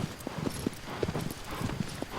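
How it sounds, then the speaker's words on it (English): A horse in the Shadow of the Colossus video game trots through forest terrain, its hooves making a steady, fairly quiet clip-clop rhythm throughout. "For some reason, Aggro does not like foresty terrain, so he kind of does a trot the whole way"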